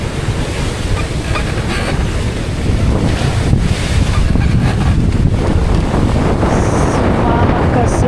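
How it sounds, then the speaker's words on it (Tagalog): Rough sea runs against a moving boat, a loud, continuous wash of waves and surf buffeting heavily across the microphone, with surges of splashing rising and falling throughout. "Rough to very rough ang dagat."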